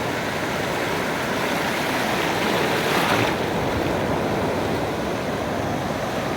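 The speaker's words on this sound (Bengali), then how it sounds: "ঢেউ আছড়ে পড়ছে। বিশাল দুটো ঢেউ এগিয়ে আসছে আমার দিকে।" Ocean waves breaking on the sandy shore at Cox's Bazar, a steady loud wash of surf that builds to a crashing peak midway and then settles back into a continuous roar.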